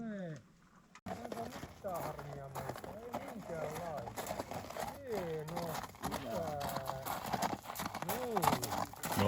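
Horse hooves clip-clop steadily along a gravel road as a young rider passes close by, while people talk over the hoofbeats throughout.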